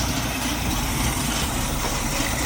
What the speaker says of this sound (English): Got the truck idling, man.